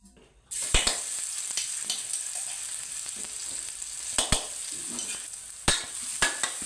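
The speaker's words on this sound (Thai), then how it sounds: "ผมจะทอดใบกะเพราด้วย" Holy basil leaves hit hot oil in a wok, bursting into a loud, steady sizzle that runs throughout, with several sharp crackles and spatters near the start and later on.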